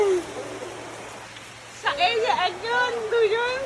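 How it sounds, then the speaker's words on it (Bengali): Heavy rain pours down at Karandighi, a steady broadband hiss running through the whole stretch while several voices talk over it in the second half. "একবার খালি বৃষ্টির অবস্থা দেখো কত জোরে বৃষ্টি দিছে"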